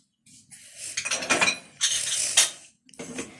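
Spoon scraping and clinking against a cooking pot as sauce is stirred with added salt, several bursts of close metallic scraping separated by short pauses.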